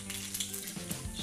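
Nigella seeds hitting hot oil in a wok give a short, crackling sizzle with fine popping spatters, close and fairly faint, steady for just over a second.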